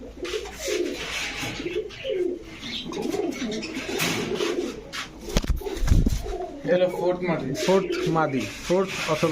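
Pigeons of Teddy, Golden and Budapest breeds coo in soft repeated bursts at close range, with a brief rubbing or thump in the middle, while people talk over them.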